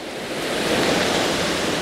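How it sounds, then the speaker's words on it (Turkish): A steady, broadband roar of water from the Oylat waterfall in Turkey, heard close and continuous, swelling slightly and holding without a break. "Oylat Şelalesi'ndeyim."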